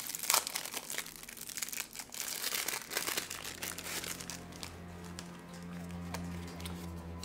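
A Cryptic Explorers trading card pack wrapper is peeled and torn open up close, giving sharp crinkling foil and plastic rustles that come in bursts and then ease into softer handling noises.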